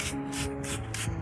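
Handheld spray bottle misting orchid leaves, with about four quick, soft hissing sprays in an even rhythm, close and alone.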